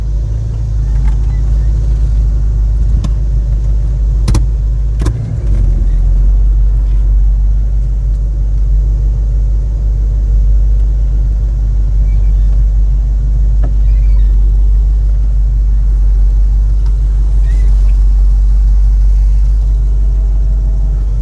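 A 1989 Chevrolet S10 pickup fitted with a V-8 of over 300 horsepower, engine rumbling loud and steady from inside the cab while driving, with a couple of sharp clicks early on.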